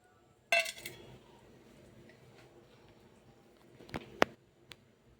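Cashew nuts being cut into small pieces on a plate in a home kitchen, heard as a sharp metallic clink, scattered faint ticks, then another bright clink and light taps, all fairly quiet and without talk.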